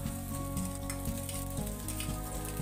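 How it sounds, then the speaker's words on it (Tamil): Loud, steady sizzling of onions and tomatoes frying in hot oil, with soft scraping as they are stirred in the pan. "நல்லா பொன்னிறமாக வதக்கி எடுத்துக்கோங்க வெங்காயத்தை"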